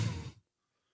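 Heavy breathing into a microphone by a wrestler, a single loud, close breathy exhale lasting under half a second and then cut to silence.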